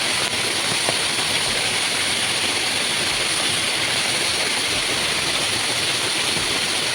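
Cold spring water flows steadily in the hills, a continuous broadband rushing hiss close by, unbroken and loud throughout with no talk.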